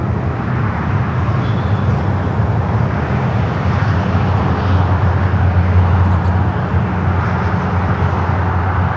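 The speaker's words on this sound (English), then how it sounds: "let's head to the Emirates A380 Super up next for arrival here on the north." An Emirates Airbus A380 arriving on the north side at LAX, heard as a steady, loud low rumble of engine and rushing air that holds for the full stretch, with a deeper tone swelling midway.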